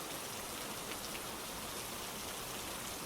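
Soft, steady night rain falls as an even, unbroken wash of fine patter, quiet and continuous with no voices.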